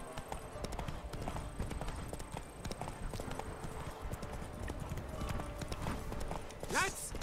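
Roach, the horse in The Witcher 3, gallops in rapid, steady hoofbeats that run through the whole stretch, with faint game background noise and a brief sharp sound near the end.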